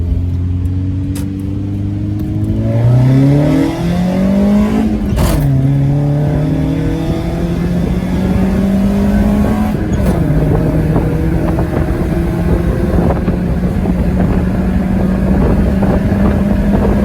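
A 1999 Honda CR-V with a 5-speed manual accelerating from inside the cabin, engine droning and rising in pitch through a gear change, loud and steady with wind noise throughout.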